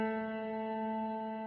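Electric guitar played through an iOS effects app with built-in delay and reverb, a steady sustained chord ringing with clean harmonic tones, held evenly and alone at moderate volume.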